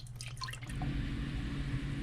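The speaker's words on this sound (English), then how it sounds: "I'm gonna add organic vegetable stock, just for flavor and so that the vegetables don't stick" Organic vegetable stock is poured into a pan of sauteing vegetables with olive oil; faint liquid splashes and drips at first give way to a steady, low sizzling bubble.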